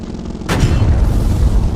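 A custom-built tank's main cannon fires once in the tank-building game Sprocket, a sudden loud boom that rolls into a long rumbling, crackling decay.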